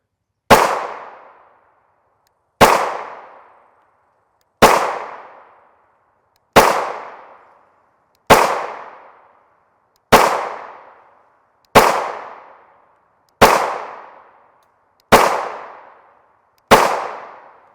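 A Ruger 5.7 pistol with a 5.5 inch barrel fires 5.7x28mm SS201 40gr FMJ rounds in ten sharp, evenly spaced shots about two seconds apart, each a loud crack with a short decaying tail.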